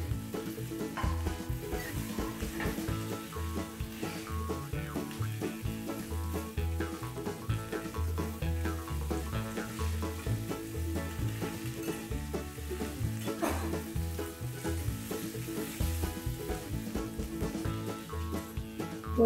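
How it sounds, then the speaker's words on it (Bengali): Onion and bottle gourd leaves fry together in a pan for a mashed lau pata dish, making a continuous sizzle throughout. A steady tonal background sits under it, and no one speaks. "পেঁয়াজ আর লাউ পাতা দুটোকে একসঙ্গে ভালো করে ভাজবো।"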